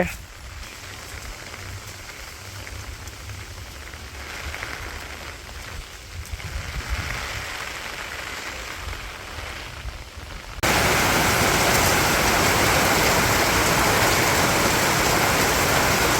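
Heavy rain pours down in a village on a rainy day, a steady broadband wash that is moderately loud at first, then abruptly jumps to a louder, denser downpour partway through and holds there.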